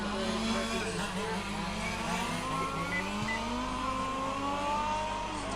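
Large-scale RC race cars lapping a track at a European championship final: a continuous buzz of small engines rising and falling as cars pass, with tire squeal and distant crowd noise under it.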